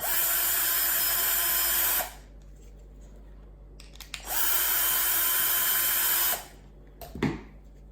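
Power drill driving 19mm screws into a radius sill brush in a workshop: two long steady whirring bursts of about two seconds each, separated by quiet pauses, with a short clunk near the end.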